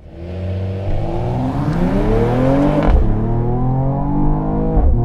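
A Mercedes-AMG GT 53 coupe launches hard from a brake-held start, its engine note climbing steadily through the gears as it accelerates; loud, close and continuous, with no voices.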